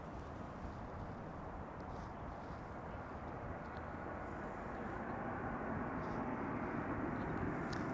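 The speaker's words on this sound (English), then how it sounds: "Transavia A321 arriving from Paris-Charles de Gaulle" A Transavia Airbus A321 airliner arriving at Amsterdam Schiphol from Paris-Charles de Gaulle makes a broad, steady engine rumble that grows slightly louder toward the end, heard from a distance without other sounds on top.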